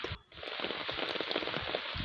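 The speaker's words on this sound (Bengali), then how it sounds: "প্রচুর বৃষ্টি হচ্ছে এখন" Heavy rain pours onto a village dirt path near a market, a dense steady hiss of drops with a brief dip early on, close and loud with no voices.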